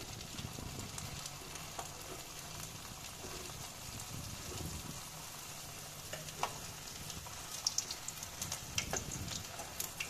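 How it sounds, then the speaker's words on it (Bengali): Soft puffed-rice dough balls for langcha sweets deep-frying in oil, a faint, continuous bubbling sizzle with light crackles and a few sharper pops toward the end, no talking. "সেগুলো ভেজে নিচ্ছি।"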